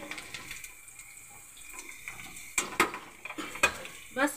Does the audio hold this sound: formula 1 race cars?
no